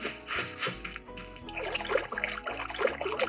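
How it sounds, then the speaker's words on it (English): Footsteps splash across a water surface in a Unity game, a run of wet, sloshing steps with trickling, dribbling water between them, heard close and alone. "This is water sound."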